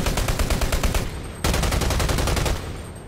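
Krotzny gun from the video game Dirty Bomb firing in rapid automatic bursts, loud and punchy with a short gap then another sustained burst fading out, no voices.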